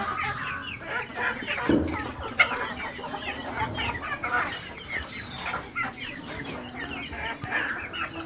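Several chickens cluck and chatter nearby in a continuous, busy stream, with a brief louder squawk early on.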